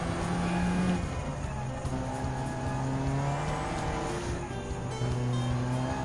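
Toyota GR Supra GT4 race car in Gran Turismo 7 on the Dragon Trail Gardens circuit during a World Touring Car 700 race, engine droning and shifting pitch steadily through the whole stretch, loud and continuous with tire noise, no talk.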